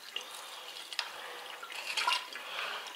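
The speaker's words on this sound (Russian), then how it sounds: "Все, вода уходит." Water runs from a tap with a soft, steady splashing and a few faint drips, fairly quiet and close.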